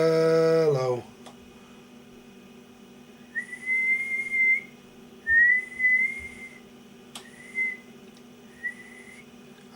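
Someone whistles several short, wavering notes in a row, each brief and fairly close, with pauses between, after a burst of radio tuning noise at the start, heard over a faint hum.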